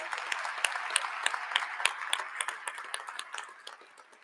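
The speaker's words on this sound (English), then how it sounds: "Please join me in a final round of applause for these high-achieving, incredible students." An audience at a December human science commencement ceremony gives graduating students a final round of applause, a dense, fairly faint patter of many hands that slowly tapers toward the end.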